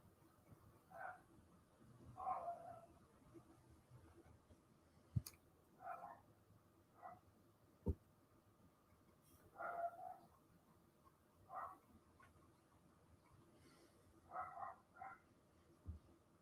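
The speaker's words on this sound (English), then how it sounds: "hear that little dog? It's not my dog." A small dog yaps again and again in the distance, the faint barks coming in scattered bursts over a quiet room with occasional clicks and knocks.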